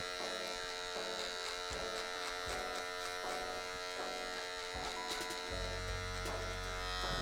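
Electric hair clipper buzzing steadily through a men's haircut, a continuous close whine with short rhythmic flicks and brief pauses as it cuts a neat weight line, then dropping into a lower hum near the end; no talking.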